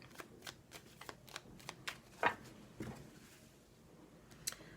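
Oracle cards are shuffled and handled at close range, with a series of soft papery flicks and riffles in irregular bursts in a quiet room, no voices.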